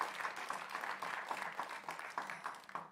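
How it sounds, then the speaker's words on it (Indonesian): Applause from the audience at a Makassar mayoral and deputy mayoral candidate debate: a steady, fairly faint patter of many hands clapping together that tapers off at the end. "Boleh berikan tepuk tangan kepada seluruh pasangan calon."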